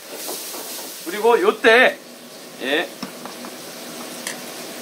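Kkakdugi fried rice bubbles and sizzles in a restaurant-style pan with a steady, close steamy hiss throughout, while someone speaks briefly over it.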